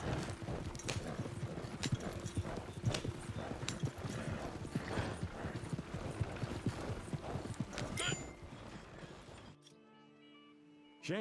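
Horse hooves clip-clop in a steady trotting rhythm in Red Dead Redemption 2 online, with an occasional whinny, close and clear; the sound cuts off abruptly near the end, leaving a faint hum.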